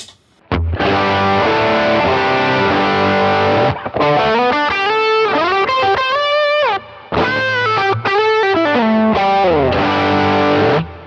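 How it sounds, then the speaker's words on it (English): Electric guitar played through a J-Rocket Archer overdrive pedal into a Princeton Reverb amp model on a Line 6 HX Stomp, loud crunchy chords and riffs with a few short pauses between phrases. "Here it is with the J-Rocket Archer overdrive in front of it."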